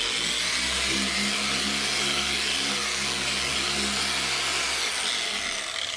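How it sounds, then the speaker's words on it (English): A dual-action car polisher runs at speed 4, spreading polish over a section of paintwork with a steady, loud whir that holds constant for the whole stretch, and no voices. "I'm going to go ahead and set the polisher to speed 4 to spread my polish out."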